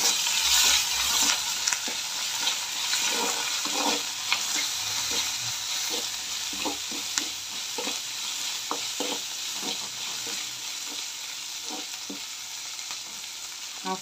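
Onions with rock salt sautéing in a pan for a moong dal curry, a steady close sizzle broken by frequent scraping stirs throughout, with no talk.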